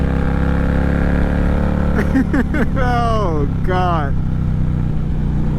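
An Indian Challenger motorcycle engine running steadily under a rider's excited voice, with a couple of quick revs mid-clip.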